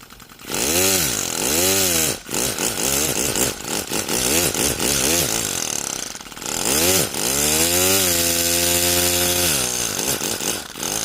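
A turbocharged 3D-printed single-cylinder air engine runs close and loud with a buzzing, rasping drone, its speed rising and falling repeatedly before settling into a steadier higher pitch, with no talk.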